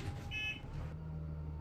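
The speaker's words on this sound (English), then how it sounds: "And it beeps without me even being in it." A short electronic beep from a bus in a Roblox game sounds once, high and tonal, over a steady low engine hum.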